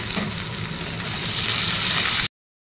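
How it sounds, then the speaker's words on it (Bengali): Rice and lentils fry in a pan with onions already browned, giving a close, loud and continuous sizzling hiss that swells slightly as stirring goes on, then cuts off abruptly. "পেঁয়াজটা লাল করে ভাজা হয়ে গেছে, ওর মধ্যে চাল ডালটা দিয়ে এবার ভাজবো।"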